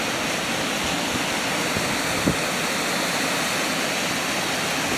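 Steady rushing water, like a stream or small waterfall, fills the background with constant broadband noise and no speech.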